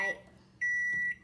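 Kitchen appliance beeping while soap is being made, two short electronic tones, the second longer and louder, close by and alone.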